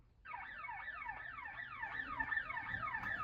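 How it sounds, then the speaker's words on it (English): A police siren wails in a steady, repeating rising-and-falling sweep, faint and distant, continuing without pause after a short quiet start. "Just a police siren."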